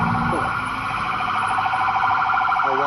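An ambulance siren wails loudly and steadily outdoors on a street, its warbling tone continuous throughout with faint background noise.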